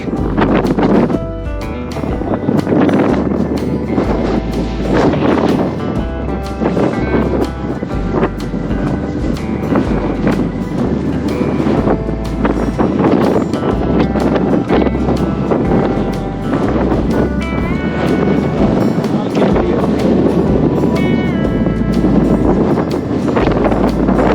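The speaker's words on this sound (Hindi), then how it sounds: "अभी हवा बहुत तेज़ चल रही है" Strong wind blows beside a river in Ladakh, a loud, continuous buffeting roar that batters the microphone throughout with no let-up and no voices.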